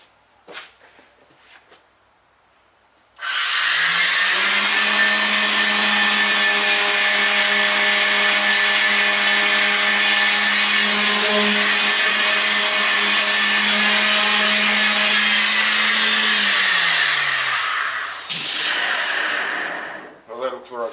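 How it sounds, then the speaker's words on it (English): A power sander runs steadily on the body of a Toyota Coaster bus, a loud continuous whine that holds for about fourteen seconds before winding down, followed by brief handling noise. "give it a real good sand"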